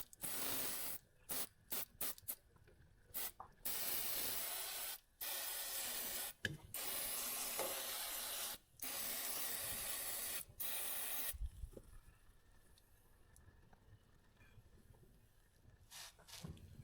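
An aerosol penetrating coating is sprayed onto a rusty tractor PTO shaft in repeated close, loud hissing bursts of varied length separated by short gaps, then a quieter stretch of faint handling noise.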